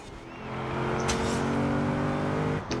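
A car in the racing game Forza Horizon 4 accelerates hard, its engine rising into a loud sustained drone with strong harmonic tones, then briefly dipping near the end as it shifts gear.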